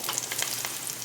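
Tomatoes sautéing in a frying pan for Filipino ginisang labanos, a soft steady sizzle with brief crackles, close but fairly quiet, no talking.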